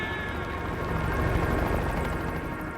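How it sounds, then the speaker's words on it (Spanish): Helicopter rotor blades throb close by in a steady, dense churning roar that holds at an even level throughout, out in a vast icy wilderness. "El sonido de las aspas del rotor se siente muy cerca."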